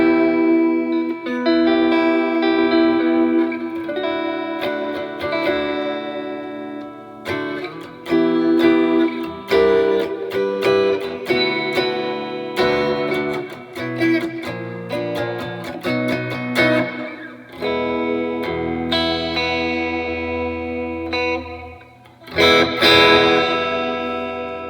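Electric guitar played through a Keeley Caverns V2 delay and reverb pedal set for heavy modulation, with chords and single notes ringing out in a wavering, swirling wash of echoes that trail between phrases, loud and alone.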